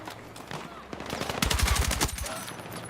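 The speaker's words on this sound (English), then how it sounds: "I'm getting sniped." A burst of loud gunfire cracks in a Battlefield 6 battle, several quick shots clustered in the middle over a busy background of game noise.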